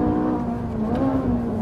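A V8 sports car engine of 570 horsepower screams at a loud, sustained high pitch, holding steady and close with no talk over it.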